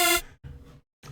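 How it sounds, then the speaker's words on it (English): A synth Hoover screech layered into a remix drop gives a bright, buzzing burst at the start, then cuts to deep pulsing bass stabs separated by short gaps. "it also layers with this big, another Hoover screech."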